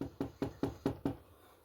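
Six evenly spaced knocks on wood, sharp and close, about five per second, then quiet, with no talking.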